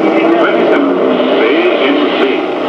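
An Alfa Romeo rally car, number 26, pulls away from the start line at the 1968 Monte Carlo Rally, its engine a loud, close, sustained roar with shifting pitch, while a voice talks over it.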